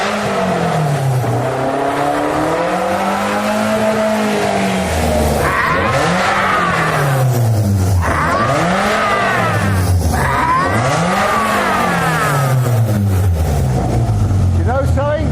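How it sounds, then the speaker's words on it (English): A freshly rebuilt supercar engine in a London garage fires up and revs repeatedly, with rising and falling throttle sweeps and a steady loud idle between them. Voices can be heard faintly under the engine. "the engine of their first supercar is purring"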